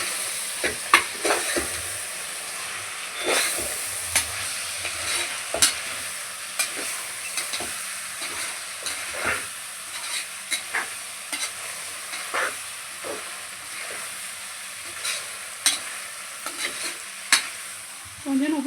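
Chicken pieces for Tamil-style kuska stir-fry in a pan, with a steady sizzle under repeated scraping stirs and clatters of a spoon, close and moderately quiet.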